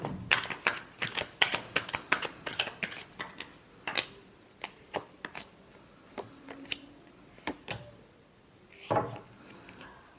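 Tarot cards being shuffled by hand: a quick run of crisp riffling snaps at first, then slower separate flicks and taps, close and clear with no talking.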